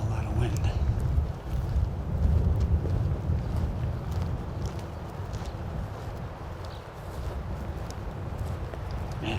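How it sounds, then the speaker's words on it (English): Strong wind buffets the microphone outdoors during a spring turkey hunt, a steady low rumble with gusts that holds loud and continuous throughout. "There's still a lot of wind."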